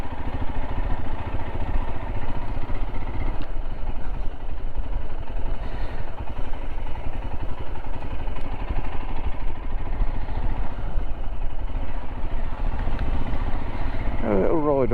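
A Royal Enfield Himalayan motorcycle rides through the French town of Châteaulin, its steady engine drone continuous and close throughout, with faint clatter and a brief sharper sound near the end.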